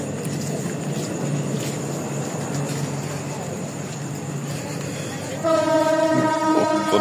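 Train noise at a Rajshahi station platform in northern Bangladesh: a steady rumble and hiss, and near the end a louder sustained horn-like tone with stacked harmonics as the train pulls out, with faint background voices.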